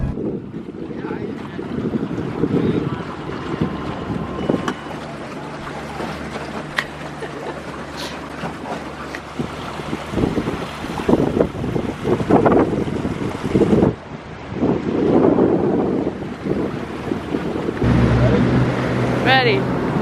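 A small fishing boat out walleye fishing moves across the water, its low engine rumble mixed with heavy buffeting wind noise and splashing, loud and continuous for the whole stretch.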